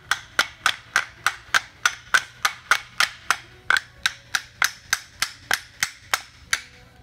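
A pneumatic nail gun fired by striking it with a hammer instead of air gives about twenty sharp, evenly spaced metallic cracks, close and loud, in a quick steady rhythm.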